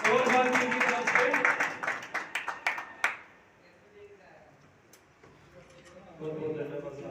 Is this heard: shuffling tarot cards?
no